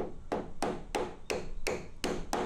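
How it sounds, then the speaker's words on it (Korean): A wooden mallet strikes a plastic pepper plant support stake, driving it into the ground outdoors, with seven evenly spaced hollow knocks about a third of a second apart, close and fairly loud, no talking. "플라스틱이기 때문에 나무 망치 같은 걸로"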